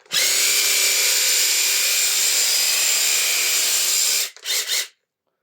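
A Makita DUH754SZ hedge trimmer runs with freshly greased blades, a loud steady buzzing whir that holds for about four seconds, then cuts off with a couple of short bursts before falling silent.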